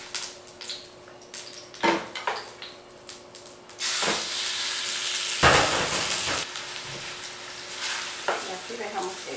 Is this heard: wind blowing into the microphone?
no